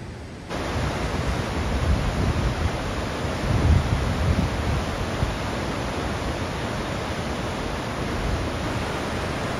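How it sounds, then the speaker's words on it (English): Strong wind buffets an outdoor microphone at the Deil's Cauldron gorge in Glen Lednock, with its footbridges and paths: a loud, continuous broadband rumble that roars steadily for nearly the whole stretch after a brief quieter start. "plug the mic in now, folks, because it's got a bit windy down here"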